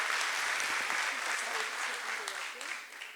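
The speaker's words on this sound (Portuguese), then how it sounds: "Eu quero pedir uma salva de palmas a todas as nossas doutoras aqui" Audience applause at a legal conference panel on social security law, a steady dense wash of clapping hands that holds strong throughout and fades slightly toward the end.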